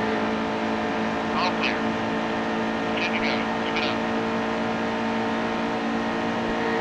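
A steady, droning GT sports car engine in NASCAR Heat 2 hums continuously throughout, with a few faint higher chirps layered briefly over the constant motor tone.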